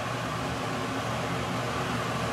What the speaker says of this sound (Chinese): 抽油烟机开了